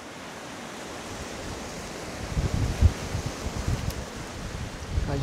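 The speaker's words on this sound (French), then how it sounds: "Il y a un gros vent de fou là." Strong wind blows outdoors over a pasture, a steady hiss with low gusts and buffeting thumps that build and become louder partway through, with no voices.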